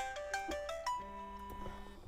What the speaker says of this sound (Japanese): あれ、珍しい人から電話だ。